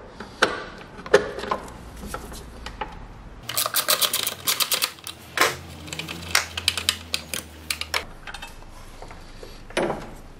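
Metallic clicks and ratcheting taps come in irregular bursts while a battery bracket bolt is removed on a Mercedes CLS Shooting Brake, close by with brief pauses between the bursts.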